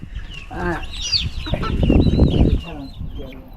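Native village chickens cluck and squawk close by amid a busy farmyard in the hills of Thanchi, Bandarban, during the monsoon, with some bird chirps and a rustling burst in the middle.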